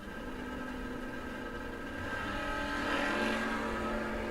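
A 1970 Chevrolet Chevelle drag car at a no-box drag racing event rumbles at the line, its engine note building and swelling louder toward the end of the clip.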